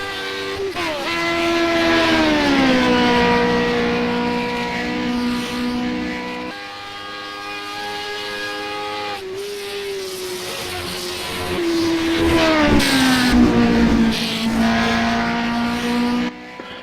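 Lotus 49 race car in the iRacing sim at Indianapolis, its engine holding a loud, steady high-revving drone that dips and climbs through gear changes across the whole stretch, with no talk over it.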